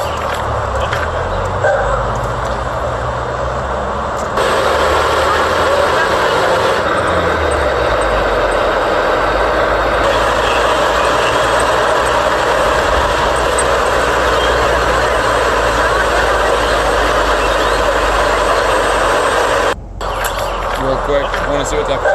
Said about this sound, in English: want to see what that fire truck had on there?